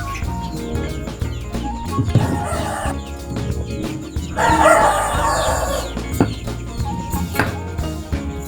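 Chickens cluck and squawk in bursts while being fed tomatoes, with one louder flurry in the middle, over a busy background with no talking.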